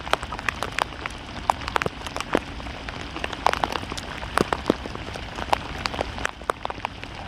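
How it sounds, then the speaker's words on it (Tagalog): Steady rain pattering on a surface, with scattered sharper drops striking nearby throughout, continuous and fairly dense. "Lakas na naman ng ulan guys"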